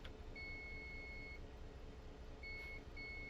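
A driver-to-guard buzzer button beeps in a Class 67 locomotive cab in Train Simulator: a steady high electronic tone sounds for about a second, then two shorter beeps follow later, over a constant low engine rumble.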